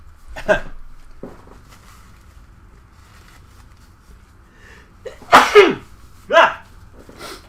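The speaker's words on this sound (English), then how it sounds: "I have to sneeze." A person sneezes, a short burst followed a moment later by a second, sharper sneeze and a third, close and loud against a quiet room.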